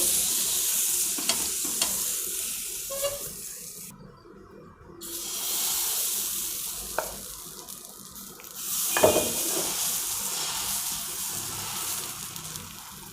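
Water crackles and sizzles on a hot dosa griddle, a steady frying hiss with small pops and a brief lull midway.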